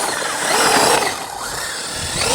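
A Traxxas Unlimited Desert Racer 4WD RC truck runs at half throttle, its motor whine rising and falling over a couple of seconds, fairly close and with no talking.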